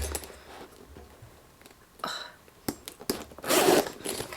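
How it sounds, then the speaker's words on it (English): Zipper on a Louis Vuitton MM-size bag pulled in several short, uneven bursts, close and clear, with a longer rasping run near the end. "Can't work zippers today, Meredith."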